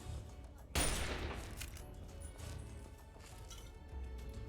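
Gunfire from the video game Fallout 3, opening with a sudden loud shot and followed by a dense, noisy stretch of softer shots and crashes.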